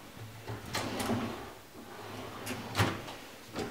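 Soft-closing kitchen cutlery drawers in a compact two-bedroom house slide open and shut, a few quiet rolling swishes and muffled thuds, faint and close with no talking.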